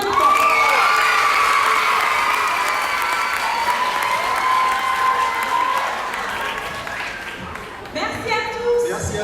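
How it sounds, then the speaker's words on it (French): An audience applauds and cheers loudly after a school musical-comedy stage performance, with steady dense clapping and whoops that thin slightly toward the end as a voice cuts in. "On l'applaudit bien."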